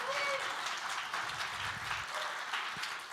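Audience clapping in a hall during a day-camp gathering, a steady wash of hands at moderate volume that holds for the whole stretch with faint voices mixed in.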